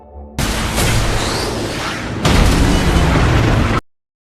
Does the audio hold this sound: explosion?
yes